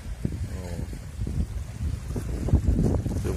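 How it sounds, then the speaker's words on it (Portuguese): Wind blowing outdoors near a lake with a sailboat in the distance, gusty buffeting over the microphone and low rushing noise, steady and fairly close. "Não sei se dá para vocês ouvir o barulho do vento."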